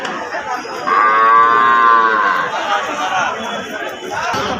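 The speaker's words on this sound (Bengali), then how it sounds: "এখানটায় যেটা শাহিওয়াল ষাঁড় বাচ্চা দেখতে পাচ্ছি" A Sahiwal bull calf moos loudly at a busy cattle market in Birampur Hat, one drawn-out call rising over a steady murmur of crowd chatter and nearby talk.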